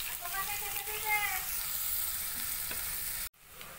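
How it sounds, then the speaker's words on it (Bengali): Chopped onions and green chillies frying in oil for a katla fish curry, a close, steady sizzle with stirring scrapes and a sharp cutoff near the end, while a person talks over it. "এবার এর মধ্যে 2টো মিডিয়াম সাইজের পেঁয়াজকে আমি কুচি করে দিয়ে দিয়েছি।"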